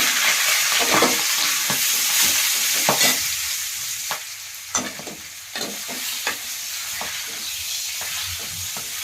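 Spinach and cumin frying in a pan while being stirred, with a continuous close sizzle broken by repeated scraping and stirring clicks throughout.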